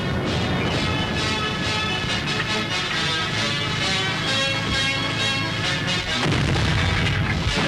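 South African artillery fires from a concealed position during a wartime action in Kenya, heard as a loud, continuous rumble of booms and blasts with a heavier burst near the end.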